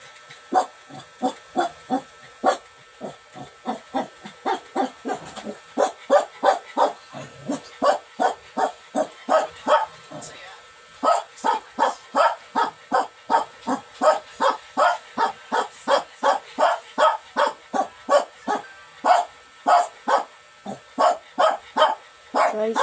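A dog barks over and over in a fast, regular rhythm, dozens of loud, close barks with barely a pause between them.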